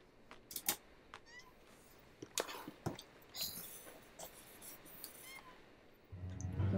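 Several chubby cats in The Sims 4 meow in short, bright calls scattered across a few seconds, quiet and game-like over soft background noise, with a louder rumble near the end.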